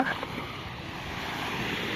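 Sea waves wash in as a broad, steady roar on the beach at East Coast Park, Singapore, with a little wind noise.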